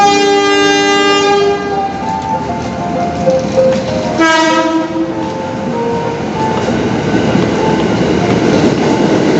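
A train arrives at Jatinegara station, 12 cars long, with a loud sustained horn-like tone and a second horn blast midway, over rumbling wheels and rail noise throughout.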